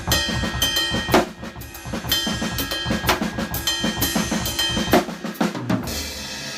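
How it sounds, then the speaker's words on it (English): A drum kit plays a steady groove with a hi-hat keeping time over kick and snare hits, with periodic crash accents cutting through; loud, close and continuous with no talking. "So now let me add the hi-hat to what I just played."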